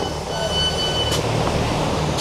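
A train rumbles steadily with a broad hiss and a faint high squeal as it rolls slowly into a station in Wales, loud and close throughout.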